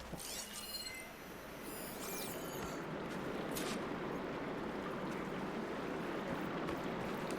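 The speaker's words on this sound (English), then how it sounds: "Aloy, I can hear water in the room again." Water flowing in a room in Horizon Forbidden West, a steady wash of running water that swells slightly and holds, preceded by a few sharp metallic clinks near the start.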